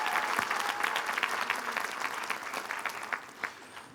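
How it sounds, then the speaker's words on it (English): Audience at a Mount Ida College commencement ceremony breaking into sustained applause, a dense, steady patter of many hands clapping that fills the space without pause for several seconds. "A big round of applause for them."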